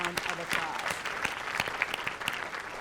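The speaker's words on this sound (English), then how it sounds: "So I think they all deserve a big round of applause." An audience at an education panel event in Detroit claps steadily and warmly throughout, a dense run of handclaps filling the room, with a voice speaking over it.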